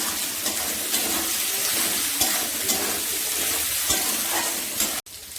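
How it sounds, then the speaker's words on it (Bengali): Chicken curry with turmeric and chili powder being stirred in a pan, a dense steady sizzle with periodic scrapes of the spoon, close and loud, ending in a brief cut. "এখন ভালো করে নাড়াচাড়া করে দেবো।"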